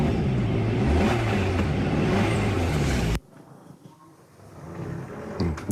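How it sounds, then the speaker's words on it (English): A car engine revving loudly outdoors for about three seconds in a rough, roaring burst, then cutting off abruptly to quiet background rumble. "the second noise I'm going to make is just revving the engine"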